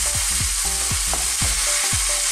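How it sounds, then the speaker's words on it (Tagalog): Chopped tomatoes frying in a pan for a Filipino cabbage dish, loud steady sizzle with several rhythmic stirring strokes and knocks of the utensil. "Just stir this for a few minutes"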